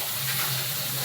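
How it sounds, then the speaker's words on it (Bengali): Fish frying in a pan in a home kitchen, a steady close sizzling hiss with a faint low hum underneath, continuous and unbroken, no voices. "আর ওইদিকে মাছটা ভাজা হোক"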